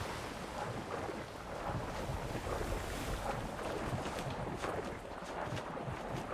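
Wind at sea while sailing in the game Atlas, a steady broad rushing roar with gusty swells and buffeting, continuous and fairly loud with no talk over it.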